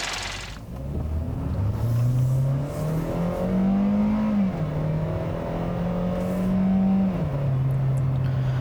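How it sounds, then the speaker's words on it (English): A 2018 Kia Rio EX, a front-wheel-drive subcompact, pulls away and accelerates through the gears, its engine note climbing, dropping at shifts and climbing again, loud and close from inside the cabin with no talk. "So first, setting off in the new 2018 Kia Rio."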